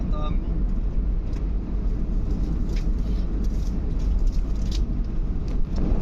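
A car drives along with a steady low engine rumble and road noise, heard from inside, with faint clicks and knocks scattered through.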